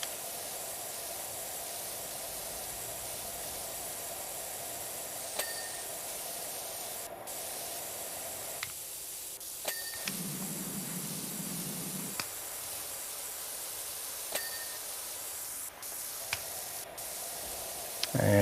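Pressure washer spray blasting van wheels in PowerWash Simulator 2, a loud continuous hissing jet that shifts in tone midway as the aim changes, with small clicks scattered through.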